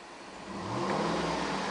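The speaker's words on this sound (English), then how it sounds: "Car's running right now. I'm going to rev it." A 2010 Cadillac Escalade ESV's 6.2-liter flex-fuel V8 revs up from idle, its engine note climbing and holding loud and steady close by, with no talking.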